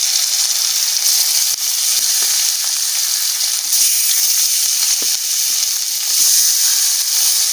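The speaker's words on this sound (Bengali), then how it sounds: "মাছ ভাজা বসাই দিচ্ছি" Fish seasoned with turmeric, chili powder, salt and pepper frying in a pan, a steady loud sizzle and hiss with faint scattered pops running throughout.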